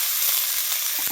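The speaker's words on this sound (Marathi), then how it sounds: "थोडंसं तेल टाकून भाजून घ्यायचं." A green unripe tomato roasts in a little oil in a pan, giving a steady close sizzle and crackle with a brief stir near the end.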